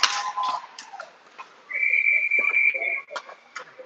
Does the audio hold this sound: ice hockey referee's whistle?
yes